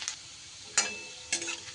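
Minced garlic dropped into hot oil in a wok, giving short bursts of soft frying sizzle, two main crackling surges a moment apart, quiet and close with no talk.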